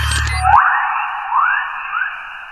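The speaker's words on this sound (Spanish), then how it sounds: "Lo que están escuchando son ondas electromagnéticas traducidas a ondas sonoras." Earth's electromagnetic waves translated into sound: an eerie, echoing tone with repeated rising whistling sweeps over a steady high hum, following a brief burst of noise at the start.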